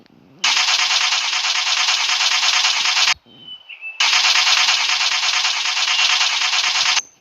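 Broken-down car's starter cranks hard in two long bursts of about three seconds each, separated by a brief pause, loud and near, without the engine catching.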